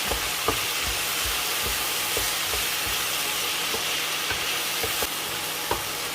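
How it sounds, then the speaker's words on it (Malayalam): Bottle gourd stir-fry is stirred with salt in a hot pan, giving a continuous sizzle and hiss broken by repeated scraping stir strokes, close and steady with no talk. "ഉപ്പൊക്കെ ചേർത്താൽ നന്നായിട്ടൊന്ന് മിക്സ് ചെയ്യാം."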